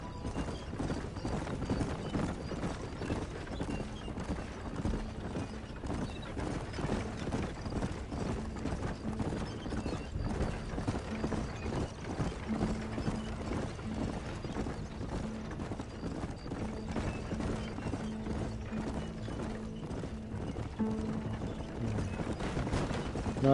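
Hooves of a two-horse coach clip-clop steadily in Red Dead Redemption 2, a continuous trotting rhythm with rattling wheels and creaking mechanisms underneath.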